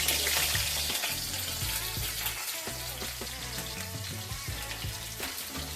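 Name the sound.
onion frying in hot oil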